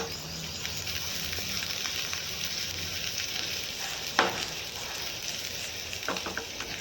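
Garlic, ginger, green chilli and onion fry in oil for a vegetable Manchurian, a soft continuous sizzle close by with a few sharp clinks of a utensil stirring the pan.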